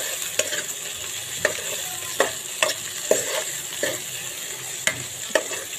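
Chicken changezi masala fries with a gentle, steady sizzle as a spatula stirs it, striking the pan in about eight crisp knocks at irregular intervals; no talking.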